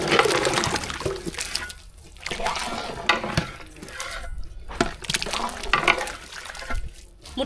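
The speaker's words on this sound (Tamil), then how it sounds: "நல்லா மட்டன் பிரியாணி கொதிச்சுக்கிட்டு இருக்கு" Mutton biryani made with seeraga samba rice bubbling and boiling in a pot, a wet, churning liquid sound with gurgles and splashes rising and falling throughout.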